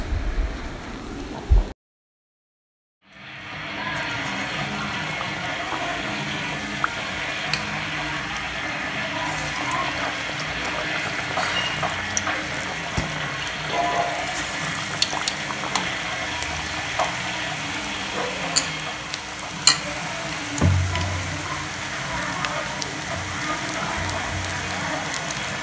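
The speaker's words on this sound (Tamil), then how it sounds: "வாழைக்காய் எடுத்து போட்டு நல்லா நனைச்சி எண்ணெயில் எடுத்து போட்டுக்கலாம்." Raw banana slices coated in batter fry as bajji in hot oil, giving a steady, continuous crackling sizzle that lasts most of the stretch after a brief silence near the start.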